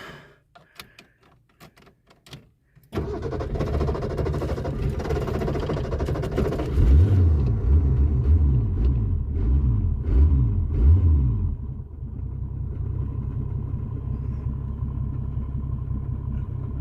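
A Capri car engine with a fuel problem runs roughly and loud up close, a steady rumbling idle with surging, uneven pulses in the middle, following a few faint clicks and clatters before it starts.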